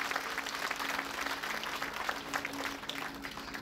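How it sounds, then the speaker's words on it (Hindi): An audience at a spiritual discourse claps together in a continuous, even burst of applause, heard somewhat distant and moderately quiet with a faint steady hum beneath. "एक बार खुद के लिए ताली बजाओ।"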